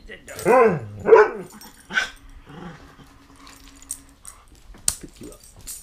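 A dog gives two loud, close barks with a growly edge, followed by quieter shuffling and clicks, then a sharp knock near the end.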